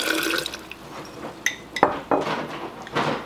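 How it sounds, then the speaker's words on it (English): Water and fodder seeds shaken inside a glass canning jar: close sloshing with sharp clinks of glass, coming in a few uneven bursts, no talking. "and then I just shake it a little bit like this,"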